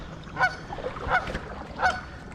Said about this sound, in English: This is the guard goose.